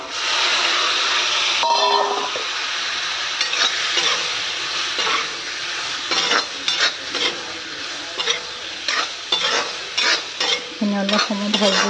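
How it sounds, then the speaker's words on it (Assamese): Onions and spices frying in a pan, a steady loud sizzle with repeated scraping stirs and clinks of a utensil against the pan throughout. "অলপ সময় ভাজি নিদিওঁ মই"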